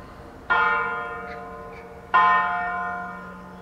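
Two loud, close church bell strikes, each ringing out and slowly fading before the next, with no talk over them.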